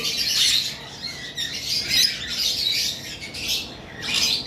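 A pair of normal lovebirds chirps and squawks in repeated bright bursts, close and fairly loud, with short pauses between calls and no talk.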